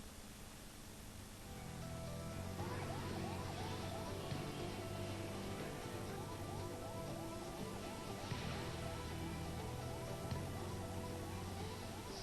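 An ambulance siren wails in repeating rising-and-falling sweeps as the emergency vehicle speeds along a busy South Delhi road, heard over steady traffic rumble after a quieter first two seconds.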